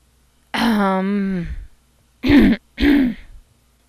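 A single drawn-out, voiced throat clearing, followed by two short, gruff throat-clearing bursts, close and loud in a quiet room.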